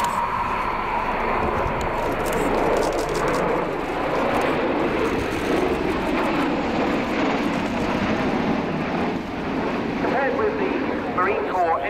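A USAF CV-22 Osprey tiltrotor performs at the RIAT air show, producing a sustained loud rotor and engine roar with a throbbing texture, wind buffeting and some background crowd noise throughout.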